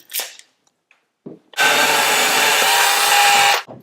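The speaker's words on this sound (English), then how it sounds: "So I can now drill that hole." A brief scrape and tap, then a power drill whirs loudly and steadily for about two seconds into a window recess wall before stopping abruptly.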